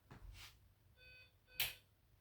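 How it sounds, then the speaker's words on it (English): An apartment door buzzer sounds a short electronic tone with steady harmonic pitch, lasting about half a second, set between faint knocks and shuffles in a quiet room. "there's a man ringing my buzzer and I'm not answering it"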